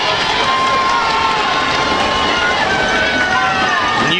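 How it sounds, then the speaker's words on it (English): Both stands at a 2017 high school football game between Newport and Rivercrest roar and cheer loudly and continuously, with a steady wash of crowd noise and voices throughout. "And you can hear both stands getting rowdy right here."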